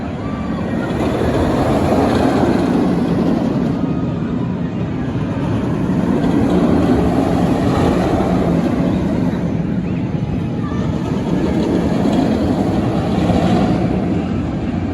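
Green Lantern, a floorless roller coaster at an amusement park, roaring steadily as the ride runs, a loud continuous rumble of wheels and rushing wind lasting throughout, with faint voices mixed in.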